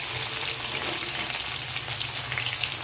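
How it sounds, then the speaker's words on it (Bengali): Fried shrimp tipped into a pan of frying bottle gourd in a light, low-spice home-style Bengali fish curry, giving a steady crackling sizzle with a faint low hum underneath, continuous and close. "এবারে এর উপরে দেব ভেজে রাখা চিংড়ি মাছ"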